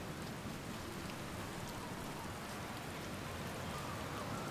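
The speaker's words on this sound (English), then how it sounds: "I do like the effects of, you know, like the rain on my helmet." Steady rain patters on a spacesuit helmet in the video game Outer Wilds, a dense, continuous hiss of drops with no pauses, close and even throughout.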